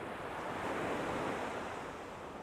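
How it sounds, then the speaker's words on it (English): Sea waves breaking on an East Coast shore during evening sea fishing, a continuous loud wash of surf with wind rushing across the microphone and no voices. "the waves are hitting my line that hard"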